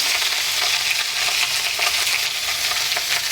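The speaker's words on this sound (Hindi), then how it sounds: "ये सबको इसमें डाल के सौटे करेंगे।" Mustard, red, green and jalapeño peppers sauté with salt in a hot pan. A loud, dense, continuous sizzle sounds up close, with light stirring textures throughout and no talking.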